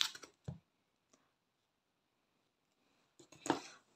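Tiny scissors snip material in a few sharp, faint clicks, a cluster at the start and another near the end with quiet in between.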